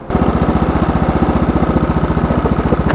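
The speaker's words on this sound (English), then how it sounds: "It's a Honda motor, which is basically a 4-stroke" A Honda four-stroke go-kart engine runs close by with a fast, even, throbbing putter, a steady idle-like chug holding constant for a few seconds.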